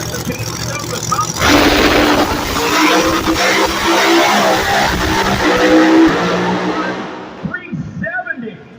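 An alcohol-fueled drag racing car makes a qualifying run near 200 mph, a loud sustained engine roar with tire noise building in after a quieter start, then fading out, with an announcer talking over it.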